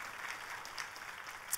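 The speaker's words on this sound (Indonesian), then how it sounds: "Boleh sekali lagi tepuk tangannya yang paling meriah." Congregation clapping inside a church service, a dense, steady patter of many hands that holds at a moderate level throughout, with no voices over it.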